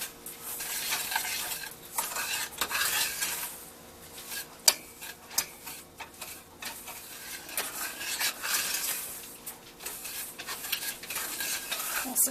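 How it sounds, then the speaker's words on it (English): Brown sugar melts and starts to boil in a pan over medium heat for caramel icing, a soft continuous sizzle broken by a utensil stirring and clinking against the pan. "we just get this melting and get it boiling"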